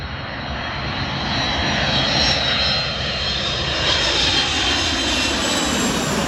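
A transatlantic airliner arriving from the United States after an overnight flight passes overhead. Its engines make a loud, steady roar that swells slightly and holds for several seconds.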